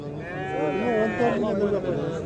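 Sheep bleating at a livestock bazaar, a wavering nasal call up close mixed with other animal cries and the murmur of the crowded market.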